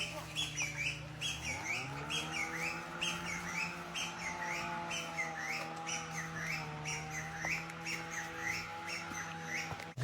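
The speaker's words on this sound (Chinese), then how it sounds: "还有一只鸡哥的叫声" A rooster crowing in a tea garden, one long, loud, drawn-out crow in the open air, with chirping birds and rustling around it.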